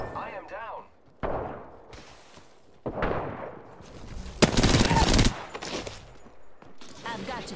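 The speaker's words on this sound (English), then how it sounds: "The enemies are shooting." Automatic and burst gunfire from a battle in the Apex Legends shooter game, several separate volleys with one loud sustained burst in the middle, mixed with short game voice lines.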